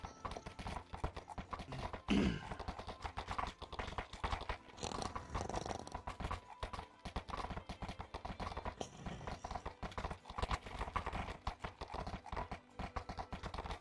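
Several horses clip-clopping along at a steady walking pace while being ridden, a continuous uneven patter of hooves heard close, with occasional creaks and rustles mixed in.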